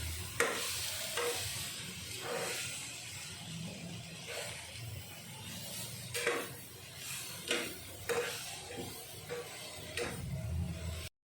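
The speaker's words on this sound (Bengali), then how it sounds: "এখন সবজিগুলো হালকা করে ভেজে নিব।" Vegetables fry in a small frying pan at home, a soft sizzle broken by repeated scraping and clinking of a utensil stirring, fairly quiet and close.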